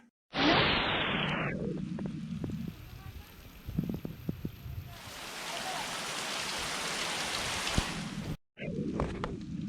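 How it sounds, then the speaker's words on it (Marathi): A sudden heavy May downpour in the Konkan countryside bursts in as a loud, dense hiss, then thins to scattered drips and knocks before a broad steady roar of rain returns. "अचानक भयानक पावसाची सुरुवात झाली आहे."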